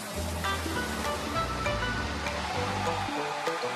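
Water sprays in a cartoon car wash, a continuous rushing hiss that runs steadily for several seconds at moderate volume with no talking.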